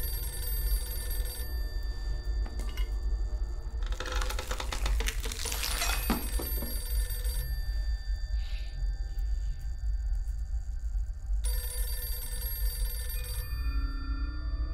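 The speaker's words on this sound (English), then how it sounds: "That phone's still ringing." An old telephone rings inside a dark house in the horror video game Visage, repeated bell trills sounding over a low steady ambient hum, with a burst of clattering noise in the middle and no voices.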